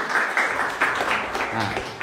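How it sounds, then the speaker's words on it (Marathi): A brief round of clapping rises from a group at a general knowledge quiz, scattered and close, with a voice speaking over it. "टाळी पाहिजे."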